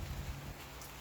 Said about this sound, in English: Hurry up. It's starting to rain.